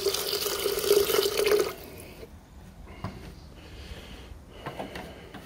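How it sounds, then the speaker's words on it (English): Hydrochloric acid poured into a container over gold-plated circuit board fingers, a bright splashing pour for under two seconds, then quiet drips and small liquid sounds. "I'll put some hydrochloric acid in"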